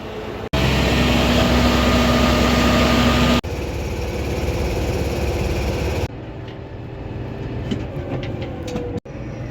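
A heavy diesel farm tractor engine idles steadily up close while fueling before hauling manure, a loud continuous rumble with a low hum, its level dropping a couple of times as it runs.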